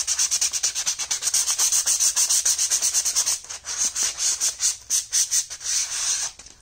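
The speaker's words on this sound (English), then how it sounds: "your scuff, like I mentioned earlier, is where you're scuffing the actual plate" Sandpaper scuffing a plastic armor plate in quick repeated back-and-forth strokes, a close, loud, raspy rubbing with short pauses between bursts and no talking.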